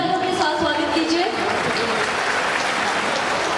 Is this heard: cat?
no